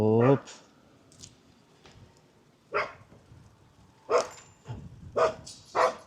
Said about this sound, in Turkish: Bu bizim mahallenin köpeği